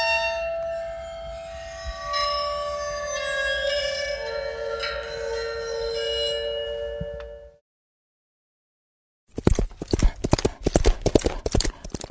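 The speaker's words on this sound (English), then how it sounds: "These are actually horses' feet, and they have the shoe on them, so you can hear occasionally, you can hear the shoe hit a stone" Foley clip-clopping of shod horse hooves on stone follows a sustained bell-like ringing tone and a short silence, with a rapid series of sharp, hard knocks close to the microphone.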